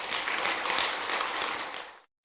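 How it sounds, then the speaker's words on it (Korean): Church lecture audience bursts into brisk, loud applause for about two seconds, a dense crowd clatter that cuts off abruptly into silence. "일단 이순신 나오면 박수 쳐주세요."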